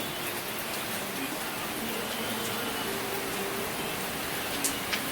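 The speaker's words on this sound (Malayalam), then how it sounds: "എന്ത് മഴ മോനെ ഭയങ്കര മഴ നല്ല മഴ നല്ല കടത്ത കാറ്റും നല്ല മഴയും" Heavy rain driven by strong wind, a loud, unbroken hiss of drops on surfaces that holds steady throughout, with a couple of sharp drips near the end.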